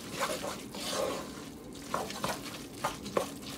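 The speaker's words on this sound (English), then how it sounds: "We're just going to mix that in." Chopped cilantro is stirred into cooked lime rice in a pan or bowl, a soft, steady scraping and shuffling with a few sharper taps of the utensil, quiet and close.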